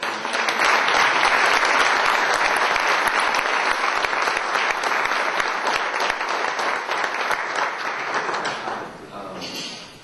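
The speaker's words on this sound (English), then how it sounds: "I just want to give them a round of applause." Sustained audience applause fills a conference luncheon room, dense and steady for about nine seconds before tapering off at the end.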